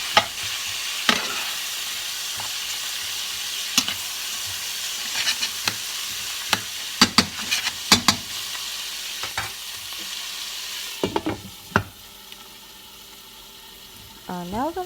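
Peppers and onions fry in olive oil for Italian sausage, a steady close sizzle and hiss with scattered sharp clicks and scrapes of stirring, no talk.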